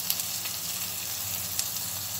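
Chopped onion frying in a pan, a steady close crackling sizzle with a few small pops, continuous and even throughout; no talking.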